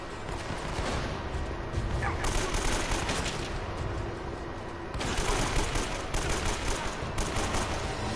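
Gunfire in the video game Uncharted: Drake's Fortune, steady bursts of shots over a dense, noisy battle background with no talking.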